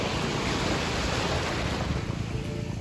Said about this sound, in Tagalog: Kasi nandito ang alon sa tabi eh.